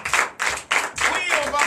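Church congregation clapping in acclamation during a Sunday worship service in Benin, strong rhythmic bursts of many hands in unison, about five loud pulses with a voice singing through the later ones.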